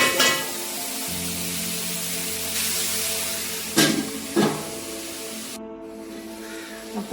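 Onions sauté with salt in a pan for kappa biryani, giving a steady, close sizzle throughout, with a few brief clinks and scrapes of stirring over the frying hiss.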